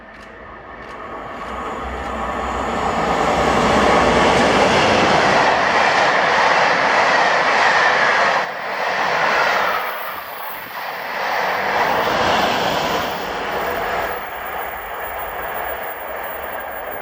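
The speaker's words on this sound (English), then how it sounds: "the 1157 locomotive service to Edinburgh from Wolverhampton with D1924 and 47614 doing the service." A locomotive-hauled passenger train on the Wolverhampton to Edinburgh service at Kirknewton, hauled by diesels D1924 and 47614, roars past close by. A loud, sustained rumble swells and fades over about seventeen seconds with faint wheel clatter.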